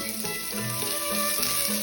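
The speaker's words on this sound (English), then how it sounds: "So keep frying, just keep frying." Onion fries in ghee with seasoning in a pan, a steady close sizzle with faint stirring, alone without talk.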